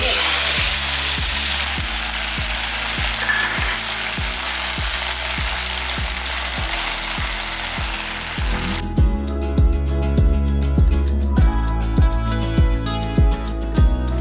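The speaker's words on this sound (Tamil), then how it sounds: "பாருங்கள் நல்லா ப்ரௌன் கலரில் பொரிஞ்சிருச்சு" Sweet pongal ingredients fry in a pan until brown, giving a steady close sizzle throughout, with a rhythmic tapping of stirring that turns sharper and more distinct in the second half.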